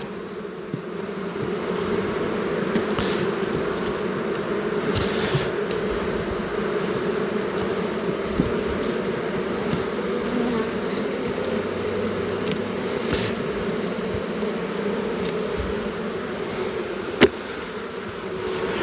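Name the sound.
honeybees buzzing at an open hive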